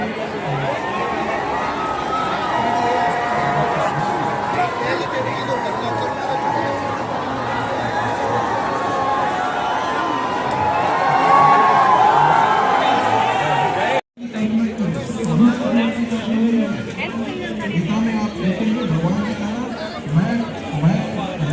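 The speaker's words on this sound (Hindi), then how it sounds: "भीड़ देखिए, इतने सारे लोग एकदम से घेर लिए कि गाड़ी ही नहीं निकल पा रही है" At the Aaj Tak Sahitya event in Major Dhyan Chand stadium, a dense crowd of fans mobs comedian Zakir Khan's car, stopping it from moving. Their chatter and shouting make a loud, steady hubbub, and a narrator talks close by over the crowd.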